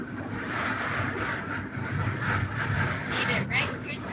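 Strong wind buffets the microphone outdoors during a storm chase, a loud continuous rushing roar with no breaks, and voices are faintly mixed in beneath it.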